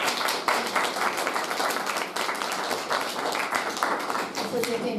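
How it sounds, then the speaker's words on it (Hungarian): An audience claps at a district poetry and prose recitation competition, giving steady, dense applause that fills the whole stretch at moderate loudness. "felkészítő tanársági Gyöngyi, tapsoljuk be!"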